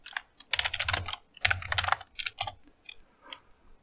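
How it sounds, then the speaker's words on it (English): Close, quick clattering keystrokes on a computer keyboard in uneven bursts, with a few separate taps trailing off at the end. "Let's go ahead and type that out, like right there."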